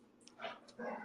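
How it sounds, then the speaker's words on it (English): Dogs bark in the background during bath bomb making, two short, muffled yips and barks at moderate distance over a quiet room. "Dogs barking in the background."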